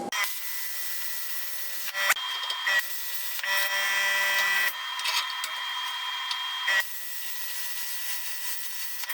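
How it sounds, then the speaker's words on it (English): YesWelder CT2050 plasma cutter slicing through metal in steady bursts, a harsh hissing rasp with tonal whine that cuts out and restarts several times, loud and close with no talking. "this cut's way better than another plasma cutter that I have"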